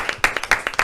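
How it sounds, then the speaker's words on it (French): A handful of hands clap briefly for the first students of a studio academy, about seven light, distinct claps in quick succession. "Ça peut s'applaudir"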